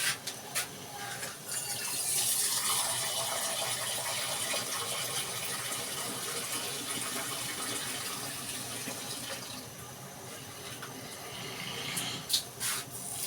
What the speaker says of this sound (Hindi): ये देखिए हमने इसमें पानी डाल दिया अच्छा खासा